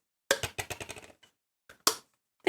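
A water cup in a small indie computer game gives a quick run of crisp, close tapping clicks, then falls silent before two more isolated taps near the end.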